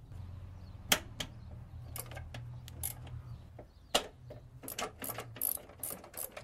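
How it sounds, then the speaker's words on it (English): A hand ratchet and socket loosening 12mm nuts on a car's clutch master cylinder, giving quiet, close clicking pawl ratchets in short uneven bursts, with a couple of sharper clicks and a low hum beneath. "It can be accessed with a simple ratchet and socket setup."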